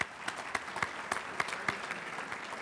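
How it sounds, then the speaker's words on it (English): Applause for nominees at the Irving Police Banquet 2014, a soft, distant patter of clapping from the audience with distinct individual claps, fairly faint throughout. "Let's give them a round of applause for those nominees"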